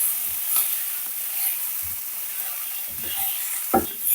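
Mint leaves fry with spices in a pan, making a faint hiss broken by a few low knocks and stirring scrapes, including one sharper clack near the end, with no talking.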